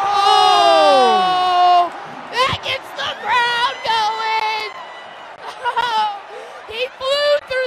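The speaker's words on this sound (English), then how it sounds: "Alley-oop! Oh! That gets the crowd going!" A basketball crowd at a Chaminade vs. East St. Louis high school game cheers and roars after an alley-oop, with excited commentary and whoops rising over loud, sustained arena noise.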